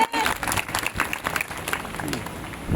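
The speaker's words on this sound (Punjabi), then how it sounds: "ਸਭ ਜਨ ਜੋਰ ਦੀ ਤਾੜੀ ਦੇ ਨਾਲ ਪਰਮੇਸ਼ਰ ਦੇ ਨਾਮ ਦੀ ਮਹਿਮਾ ਕਰਾਂਗੇ" A church congregation breaks into loud applause during a testimony service, a dense wash of clapping with crowd noise and voices mixed in, steady for a few seconds.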